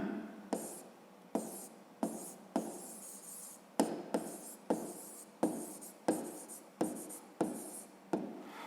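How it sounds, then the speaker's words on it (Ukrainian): Pen or pencil writing out a math solution on paper in a quiet room, a run of about a dozen short scratchy strokes in a steady rhythm, close and faint. "Записуємо розв'язання."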